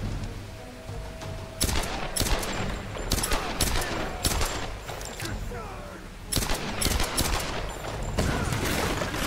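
Enemies fire on the player in Tomb Raider (2013), a dense, ongoing fusillade of sharp rapid gunshots in repeated bursts, fairly close, with a voice talking between the volleys.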